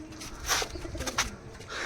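Several teddy pigeons in a loft coo softly and continuously at close range, with a few brighter bursts of flutter or scuffling noise in between and no voices.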